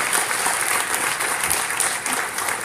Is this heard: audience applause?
yes